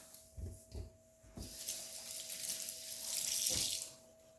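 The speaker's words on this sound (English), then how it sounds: "Let me wash my hands." Water from a kitchen tap runs while hands are washed beneath it, a hissing splash that swells in the second half, punctuated earlier by a few soft low thumps.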